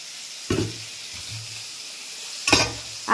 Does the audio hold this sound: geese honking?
no